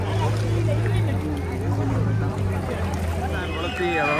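A racing boat with a 20 hp engine runs on the sea during a village boat race, its steady low engine hum continuing throughout beneath wind and people talking nearby.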